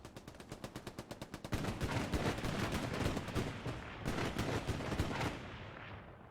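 Gunfire from a Panzer II tank in the Hell Let Loose battle game: a rapid series of evenly spaced sharp shots, then a dense sustained burst of heavy automatic fire and rumbling blasts, close and loud, with no talk.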